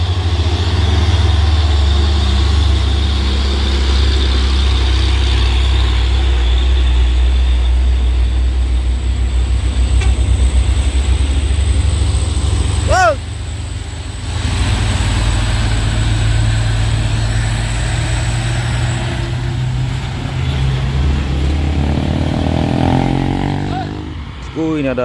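Heavy Hino trucks, including a tandem-axle tronton with a heavy load, grinding up a steep hill climb, a loud continuous diesel drone close by with a brief rising whine midway, people talking over it.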